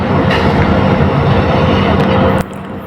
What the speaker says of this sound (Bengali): ট্রেনটি চাকার অনেক শব্দ হচ্ছে